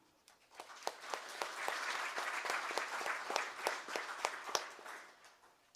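A crowd applauds steadily for several seconds, a dense wash of clapping with a few sharper individual claps standing out, fairly distant.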